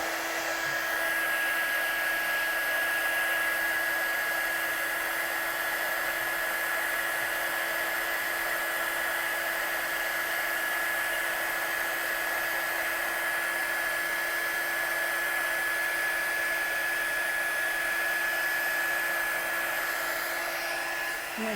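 A craft heat gun runs continuously to heat-set stamped embossing powder, a steady close whooshing blower hum with a constant high whine, unchanging for the whole stretch.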